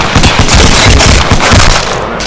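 Loud, close automatic weapon fire in Apex Legends, a rapid dense burst of shots lasting a couple of seconds.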